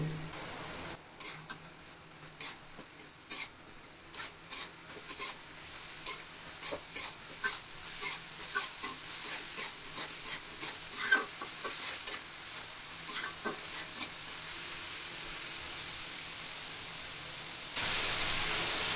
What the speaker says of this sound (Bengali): এবার চুলার জালটা বাড়িয়ে একটু নেড়ে চেড়ে নিব।